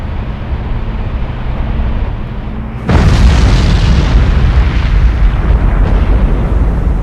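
A submarine sinking in the Cold Waters naval video game, heard as a low steady rumble that suddenly breaks into a loud, deep explosive boom, then a sustained roaring wash that slowly fades.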